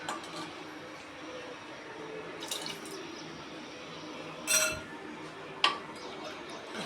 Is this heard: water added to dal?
yes